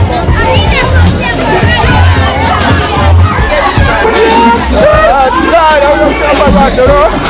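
Massive, hectic crowd at a back-to-school treat event, loud overlapping chatter, shouts and children's voices close by, with someone talking over the constant babble.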